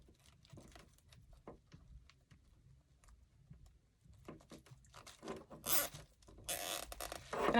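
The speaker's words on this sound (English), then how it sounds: "I'm gonna zip tie it down." A zip tie is ratcheted tight over pipe cleaner on a Santa-themed holiday wreath: soft rustling and handling at first, then two loud bursts of rapid zipping clicks close to the mic near the end.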